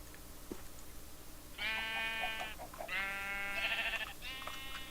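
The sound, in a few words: sheep bleating in TerrafirmaCraft Minecraft video game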